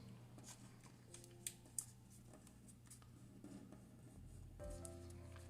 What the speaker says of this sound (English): So we're just going to fold it up like this.